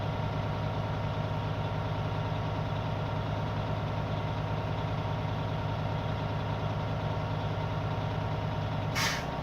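A truck's air brake governor reaches cut-out at about 1200 rpm while the diesel engine idles steadily, ending in a single sharp, loud burst of air purge near the very end.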